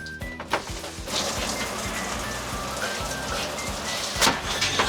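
An RV shower head sprays steadily, a dense continuous hiss of running water close up after a brief start, with faint clunks underneath and no talking.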